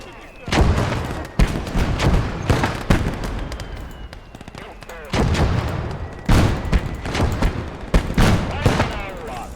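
Heavy mortar blasts and rolling gunfire fill a battle in the video game Motherland, loud repeated booms and crackling volleys overlapping almost continuously, with a voice speaking now and then amid the din.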